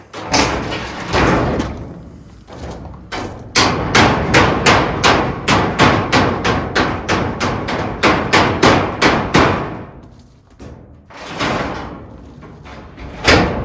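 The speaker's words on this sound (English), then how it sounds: "Hit the hammer." A hammer pounds the metal frame of a homemade shop door in a fast, loud, close series of ringing blows, roughly two dozen in quick rhythm. The blows pause briefly, then resume with a few more strikes.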